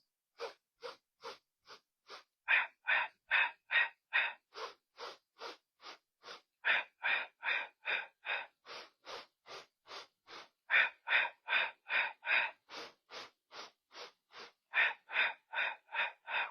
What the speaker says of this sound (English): Sniffs.